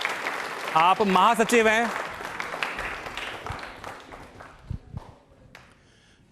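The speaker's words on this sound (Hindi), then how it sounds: "एक बार तालियां हो जाएं जीएल वर्मा जी के लिए" Audience applause at a televised Ambedkar Jayanti programme greets a guest invited to the stage, a dense patter of clapping that swells, then thins and fades, with a voice speaking over it.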